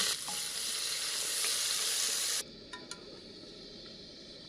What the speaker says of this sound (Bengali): চোখের আন্দাজে তেলটা দিচ্ছি দুটো এলাচ আর কুচনো পেঁয়াজগুলোকে দিয়ে দিলাম